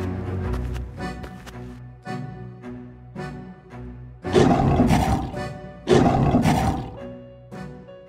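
An animated lion in a dinosaur showdown lets out deep, loud roars, first a series of rhythmic grunting pulses and then two long, powerful roars close up, set against background music.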